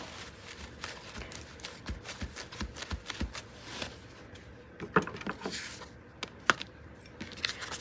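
Scissors trimming overhanging paper on an ephemera craft piece, a steady series of close, crisp snips and rustles with small taps from handling the paper.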